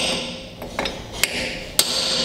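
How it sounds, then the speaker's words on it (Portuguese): A hammer taps a car wheel nut to lock it in place during a car service, giving a few sharp metallic knocks, two louder than the rest, over a steady workshop background hum. "A gente usa... os martelos aqui, ó, para fazer isso aqui, ó"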